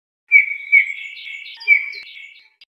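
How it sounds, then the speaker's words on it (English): A bullfinch gives soft piping whistled calls, a few brief notes blending into a thin warbling phrase, clear and fairly close against a quiet background. "Bullfinch."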